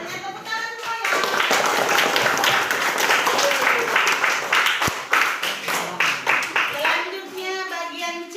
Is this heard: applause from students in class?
yes